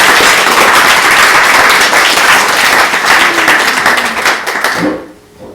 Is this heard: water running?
no